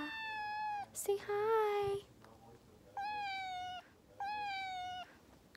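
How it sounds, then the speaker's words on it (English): A seven-week-old kitten meows loudly and close by in a drawn-out, repeated series of cries, with a brief spoken voice between them. "Today, I got a kitten"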